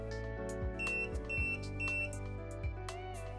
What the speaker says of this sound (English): Press the stop button again, and the shade will jog twice and beep three times.